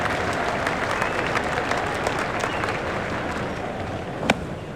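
Crowd applause in the cricket video game Cricket 2004 during an Australia versus England match, a steady dense clapping that holds evenly for several seconds with one sharp crack near the end.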